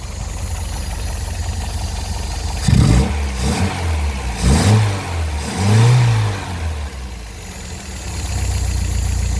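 A pre-war Riley Brooklands car engine runs at idle, then revs up in several strong bursts before settling back to a steady idle, heard close and loud with no talk.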